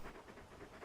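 The big dog Torgal pants in a video game, a quick rhythmic run of breathy huffs, close and faint, with nothing else heard.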